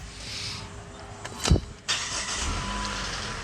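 A car engine cranks and catches, a short burst of starter noise followed by the engine settling into a steady idle. The sound is close and clear, with no talking.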